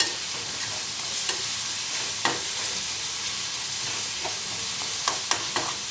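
Garlic sautéing in a hot pan gives a steady, close sizzle throughout, with a few sharp clicks and scrapes of stirring spaced through it and no voices.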